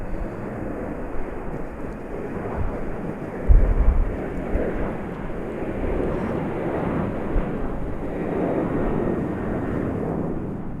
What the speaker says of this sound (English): American 737 struggling to get down the runway.